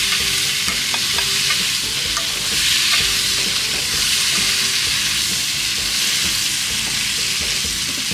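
Pickled bean sprouts stirred in a hot pan, a steady scraping and tossing over a continuous close sizzle of frying, with no talking.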